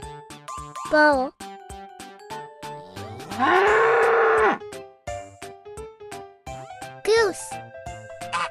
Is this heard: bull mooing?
yes